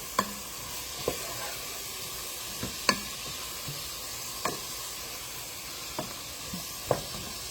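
Spoon stirring beef and bean soup just after Worcestershire sauce and pepper go in, a steady soft simmering hiss broken by a handful of separate scraping clinks against the pot, fairly quiet and close, no voices.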